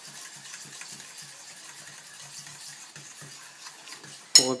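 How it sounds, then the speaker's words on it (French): A spoon stirs cinnamon biscuit batter in a bowl with soft, rhythmic scraping and tapping strokes, quiet and close, ending in a sharper clink against the bowl. "On mélange le tout."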